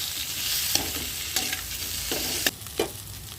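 Salted food stirred in a frying pan: a continuous sizzle broken by a few scraping stir strokes, close by, with no voices.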